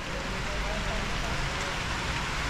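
Heavy rain pours down steadily in Rome, a dense, constant broadband hiss that stays loud and even throughout, with faint low rumble beneath.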